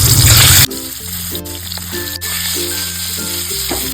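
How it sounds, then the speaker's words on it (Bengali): Eggs dropped into hot oil in a pan for a Bengali egg dish burst into a loud, steady sizzle after a brief rush of noise, crackling on without pause and no talking. "তেল গরম হয়ে গেছে, এর মধ্যে ডিমগুলোকে সব দিয়ে দিচ্ছি"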